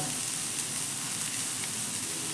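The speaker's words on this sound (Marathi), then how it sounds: "आपला कांदा इथे परतून होत आहे" Onion sautéing in oil in a kadhai for dhaba-style egg masala, a dense, steady sizzle that stays close and even throughout with no voices.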